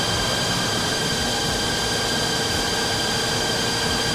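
A transmission spins on a G-TEC dyno road test simulator with the engine running, giving a steady, dense mechanical roar and whine with tonal hum that stays even and loud throughout, no voices.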